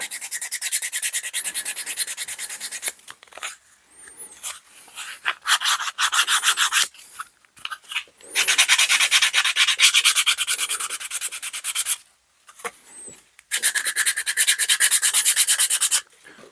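Hand sanding of MDF tabletop terrain pieces for a model building, heard as loud, close, rasping back-and-forth strokes in long stretches broken by brief pauses, with no voices.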